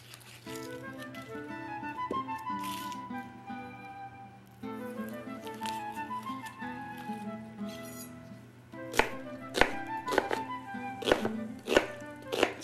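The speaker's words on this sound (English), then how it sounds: "Now we are ready to chop the onion" Knife chopping one large regular onion coarsely on a cutting board in a home kitchen: a string of sharp, evenly spaced chops comes in toward the end, loud and close over steady background music.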